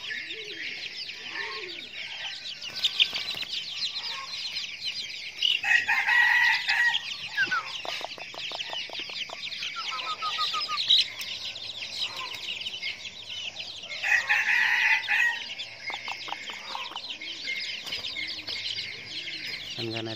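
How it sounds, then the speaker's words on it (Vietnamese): Three-week-old red junglefowl chicks cluck and peep continuously as a flock, with dense, overlapping high chirps that swell in louder bursts throughout. "Đây là đàn gà rừng 3 tuần tuổi đây."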